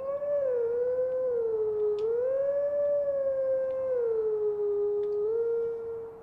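A wolf howls in The Legend of Zelda: Twilight Princess, a loud, sustained wavering tone that shifts up and down in pitch across several seconds, with faint game effects behind it.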